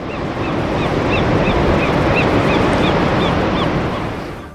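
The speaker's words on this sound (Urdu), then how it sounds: "کناروں کو چھوتی لہریں" Ocean waves wash steadily onto an island shore off Karachi, Pakistan, a loud, close, continuous roar with wind, while faint bird chirps repeat above it.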